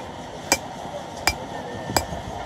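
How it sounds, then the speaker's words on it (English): Three sharp hammer strikes spaced about a second apart as gold ore is crushed by hand to gravel size at a small mining site in Kenya, each a crisp metallic crack over a steady background hiss. "And this is all by hand with a hammer."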